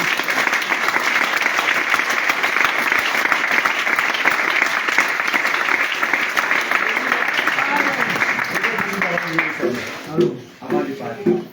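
A church congregation breaks into sustained applause to acclaim the word of the Lord, dense steady clapping filling the space for several seconds before tapering off, with voices rising near the end.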